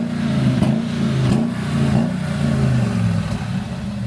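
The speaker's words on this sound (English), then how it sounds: "Give it a rev." A Jaguar S-type drift car with a swapped V8 revs hard and close, its engine note rising and falling in several surges over a steady, loud rumble.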